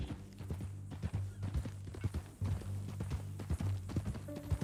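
Horse hooves clip-clop in a steady walking rhythm in Red Dead Redemption 2, close and fairly loud, with the horse shifting and a low background hum throughout.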